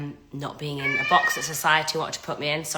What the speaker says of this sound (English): You get to meet my cat today as well because she's meowing